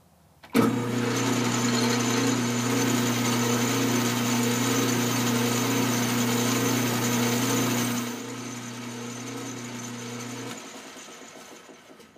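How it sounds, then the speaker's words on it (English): Metal lathe running while chamfering the inside corner of a trailer axle part, a steady loud whirring drone that starts abruptly, holds for several seconds, then drops in level and winds down. "Go ahead and chamfer this inside corner."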